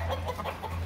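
A gamecock, a fighting rooster, gives a quick series of short clucking bursts close by over a steady low hum.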